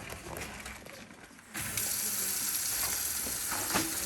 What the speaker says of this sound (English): Turning on hot water.